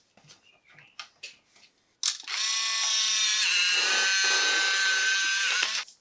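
An Instax Wide 300 instant camera makes a few faint clicks and handling taps, then a sharp shutter snap followed by a steady, loud motorized whir as the print is ejected for several seconds before stopping abruptly.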